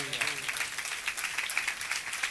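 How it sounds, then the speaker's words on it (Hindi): Steady church congregation applause during live prayer, many hands clapping continuously in a dense patter that holds level throughout, fairly loud and close. "बड़े जी जान से ये तालियां बजाइए"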